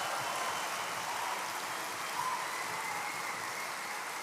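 Applause from a conference keynote audience, a broad, even wash of many hands clapping that sounds almost like steady rain and carries on unbroken throughout.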